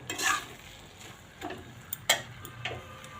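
A spatula stirs a vegetarian papaya dish in a pan, producing several quiet scraping strokes and light metallic taps against a faint background sizzle.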